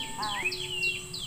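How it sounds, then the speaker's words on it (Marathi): Birds chirp at dusk near a kitchen garden, with a few bright repeated tweets and short whistled calls, fairly close, over a soft steady outdoor background. "पक्ष्यांचा किलबिलाट"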